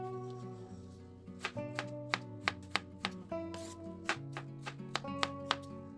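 A knife chops crisp green apple on a board for a fresh fruit and vegetable salad, the sharp taps coming in a quick, fairly even run, close and quiet, over soft background music.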